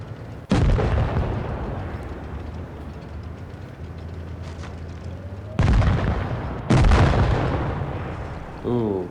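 Tank cannon fire in World of Tanks Blitz, a VK against KV-series tanks: three loud, booming shots crack out near the start and around the middle, each trailing into rumbling battle noise.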